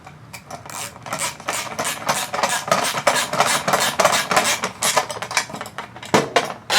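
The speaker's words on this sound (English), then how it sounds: "take your 10mm socket or wrench, if you have just a wrench, Phillips screwdriver, and just tighten them up" A 10mm socket wrench tightens bolts while installing parts on a 2024-2025 Mustang Dark Horse with Handling Package, giving a close, steady run of rapid ratcheting clicks with no talk.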